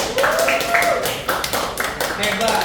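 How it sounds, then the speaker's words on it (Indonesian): A classroom group claps for a student during a microteaching session, a short burst of close, uneven hand claps mixed with voices. "Beri tepuk tangan untuk Kiki."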